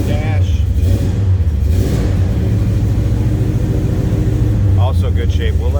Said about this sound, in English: The 383 will idle a little better once it's warm.